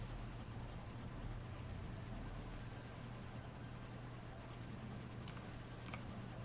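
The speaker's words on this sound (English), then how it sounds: "I'm sure you guys can hear the uh, tippity tap of my keyboard" Faint, sparse clicks of a computer keyboard being typed on during a PC game session, a few light taps scattered over a steady low background hum with no talking.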